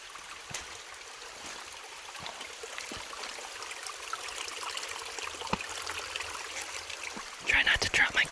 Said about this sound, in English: beautiful creek bed here.